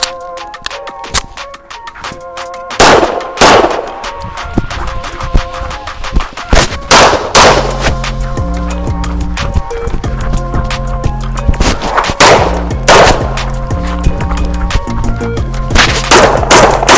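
Pistol shots fired at a shooting range ring out in loud, sharp cracks, spaced irregularly across a course of fire, with background sound between the shots.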